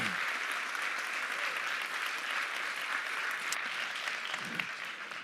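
An audience at the final of the ASI Best Sommelier of Europe, Africa and Middle East 2024 contest gives sustained, loud applause, an even roar of clapping from a large hall that fades slightly at the end.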